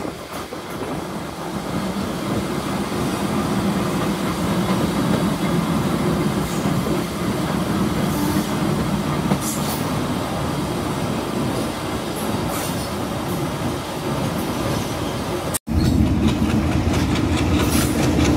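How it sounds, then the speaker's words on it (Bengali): A Bhanga commuter train rolls into platform 1 of a Bangladeshi station, a loud continuous rumble of wheels and carriages with rhythmic clatter and faint squeal, then a brief cut and louder close rumble. "ট্রেনটি এখন 1 নম্বর প্ল্যাটফর্মের 1 নম্বর রেলপথে প্রবেশ করছে।"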